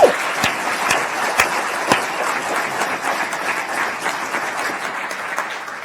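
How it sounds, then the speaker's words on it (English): Pitch night audience applauds enthusiastically, a loud, steady wash of many hands clapping that carries on for several seconds, with a few sharp individual claps standing out near the start. "everybody deserves enormous rounds of applause"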